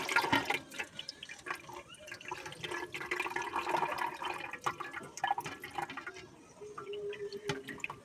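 Dal being washed in a bowl of water, irregular splashing, swishing and dripping with soft pours, close but fairly quiet.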